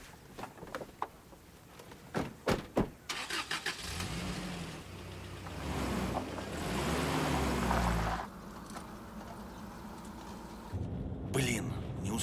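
A car starts up and revs, then its engine drone rises and falls as it pulls away, with brief clatter and voices over the opening seconds.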